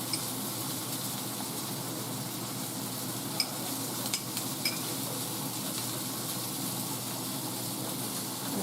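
Pork chops topped with pats of butter fry in a pan, a dense, even sizzle holding steady at close range with a couple of faint metallic ticks.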